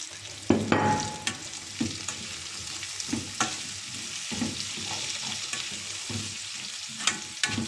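Peppers sauté with garlic in a hot pan, a close steady sizzle punctuated by clacks and scrapes of stirring, with no one speaking.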